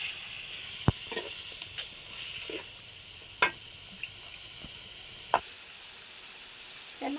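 Coconut, garlic and ginger paste masala bubbling and sizzling in a pan, soft steady hiss with scattered sharp pops and spatters, close and fairly quiet.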